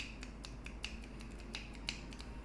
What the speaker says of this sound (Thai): เดี๋ยวจะลองฟังเสียงดีดนิ้วนะครับ